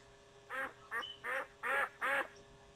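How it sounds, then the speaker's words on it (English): A duck quacks five times in the game Feed The Head, evenly spaced, clear and fairly loud nasal calls over a quiet background hum. "Quack?"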